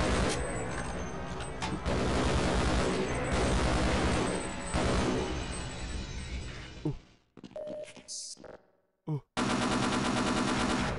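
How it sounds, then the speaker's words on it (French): Automated turret in Half-Life firing loud, sustained rapid bursts of gunfire for about seven seconds, then broken bursts and a final loud burst after a brief silence. "Il y avait une tourelle."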